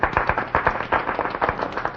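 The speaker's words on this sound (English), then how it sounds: "and they'd applaud" A club audience applauding in a 1950s radio drama: a brisk run of sharp, fairly loud hand claps in a quick, loosely regular rhythm, with no talking.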